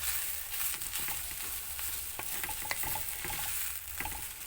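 Raw fig pieces fry in a pan, giving a steady sizzle with repeated scraping and clinking as they are stirred, close and fairly loud, with no talking.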